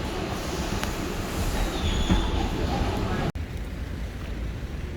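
A New York subway train rumbles loudly with steady rolling noise and faint wheel squeal, then a brief dropout as the roar continues.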